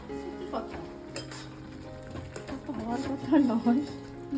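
Poppy seed paste (posto) cooking in a pan at home, with stirring scrapes and a soft sizzle under ongoing close conversation between people.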